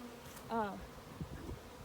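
Honey bees at an open hive during an inspection, a brief buzzing pass near the microphone that fades quickly into a quiet background with faint handling sounds.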